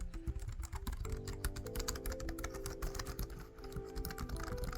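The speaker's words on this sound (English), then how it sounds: "it's a membrane keyboard. Really good membrane keyboard." Rapid typing on a Lenovo SK-8855 membrane keyboard, a dense, steady patter of soft, slightly rattly key presses, close and fairly quiet.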